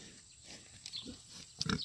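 Pigs being pet-sat make faint snuffling grunts and short snorts, a few scattered soft bursts against quiet background, close but low in level.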